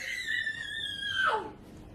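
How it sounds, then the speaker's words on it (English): A single drawn-out high scream holds steady, then bends sharply downward and fades, heard alone without talk. "What was that scream?"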